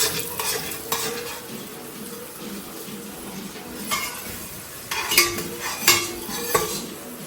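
Biryani and chicken fry in a pan with a steady sizzle while a spoon stirs and scrapes, adding loud clinks and knocks that bunch up toward the end, close by and with no talking.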